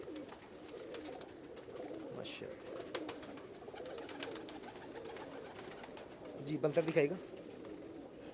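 Pigeons of show breeds held in a loft coo softly in the background, with one nearer, fuller coo near the end, while someone talks over them.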